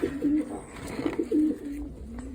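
Breeding pigeons coo in a loft, a series of soft, low, rolling calls repeating close by with brief pauses between them.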